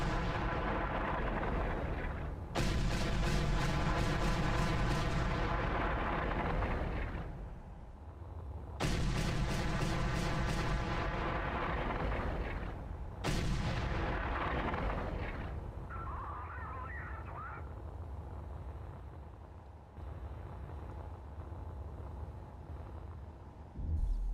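A spaceship fires its weapons in a video game. Loud, heavy blasts of gunfire come in long sustained bursts, broken by brief gaps and a fading rumble, with no voices over them.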